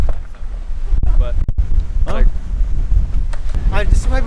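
Wind gusting across an open golf course on a cold day in LA, a steady broadband rush with buffeting against the microphone, and people talking close by over it.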